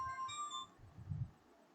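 A mobile phone ringtone plays a short bright melodic chime for an incoming call, fairly quiet and brief, followed by a faint low rustle.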